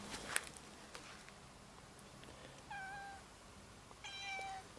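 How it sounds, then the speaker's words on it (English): A cat gives two short, faint meows a second or so apart amid quiet surroundings, with a few light taps and clicks before them. "I got the same cat, it's not another cat."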